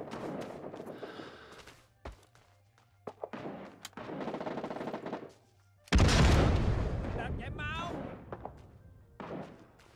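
Machine gun fire in Rising Storm 2: Vietnam breaks out in short bursts and thuds, with a loud blast partway through, while players talk over the action.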